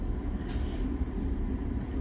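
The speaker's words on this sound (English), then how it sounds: "here comes the train" A passing train rumbles steadily with a low, continuous roar, moderately near, with a brief higher hiss partway through and no talking.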